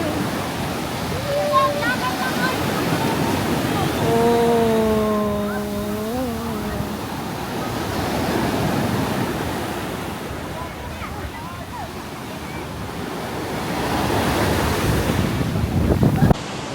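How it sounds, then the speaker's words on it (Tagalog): Ocean waves break continuously at Hermit's Cove in Aloguinsan, a loud rushing surf with wind buffeting the microphone, while a few brief whistling or voiced tones rise over it early on. "The waves are falling."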